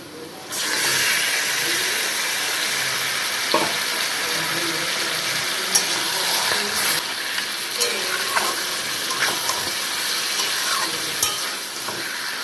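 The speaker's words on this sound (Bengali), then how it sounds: "এবার এর মধ্যে আমি মাংসগুলোকে ছেড়ে দিচ্ছি" Goat meat frying in a pan with onions already browned red, a steady loud sizzle with occasional stirring scrapes and clatters throughout, no voices.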